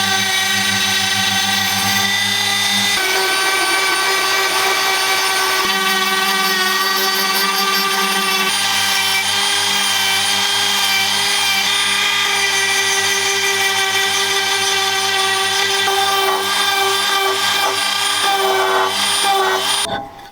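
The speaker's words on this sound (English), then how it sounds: "Eventually I move on to the finer detailing, and for this I'm using a Dremel." A Dremel rotary tool fitted with sanding drums, carbide burrs and cutting bits carves a wooden speargun handle, giving a steady high whine that shifts in pitch as the load changes, with no talking.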